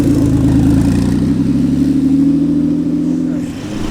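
Ford GT sports car engine close by, a loud low rumble that holds steady and then eases off near the end, with no talking.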